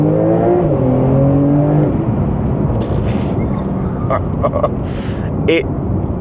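Porsche 911 Turbo (50 Years edition) pulling hard out of a corner, the engine note rising steeply then shifting and continuing under road roar, with interior clicks and a person talking over it.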